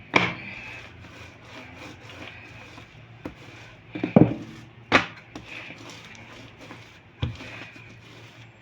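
Katmer dough being rolled out on a wooden board makes soft, continuous rubbing and scraping, broken by several sharp wooden knocks and thumps, close and fairly quiet, with no voices.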